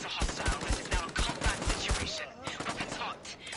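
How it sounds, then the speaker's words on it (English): Gunfire in the PSVR co-op shooter Bravo Team comes as rapid bursts of sharp shots, loud and near, over a busy game backdrop with some voice sounds mixed in. "I like shooting guns."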